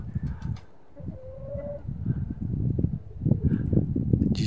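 Low, soft cooing of pigeons close by, repeated throatily over a few seconds, with faint rustling in the background.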